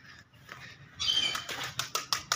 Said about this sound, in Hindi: लो जी अपना कबूतर ही उड़ गया